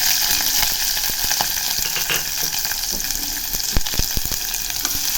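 Garlic and cumin fry in oil in a pressure cooker with a loud, dense sizzle, sharp crackles and pops, and occasional stirring clicks close by, no voices.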